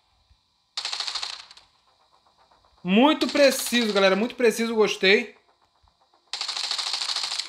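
Shooting-practice gunfire in the video game The Division Resurgence: two rapid automatic bursts about a second long each, with someone speaking in the pause between them.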